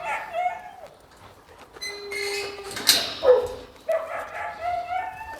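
Several dogs bark and yip close by in short irregular bursts, with a few higher whining notes between them and no talking.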